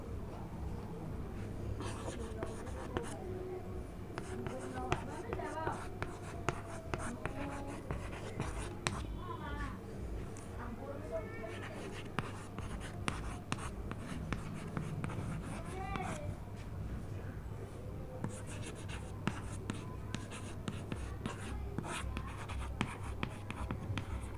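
Pen or marker writing out a word on a board or page during an English grammar lesson, a steady run of scratchy strokes under continuous nearby teacher speech.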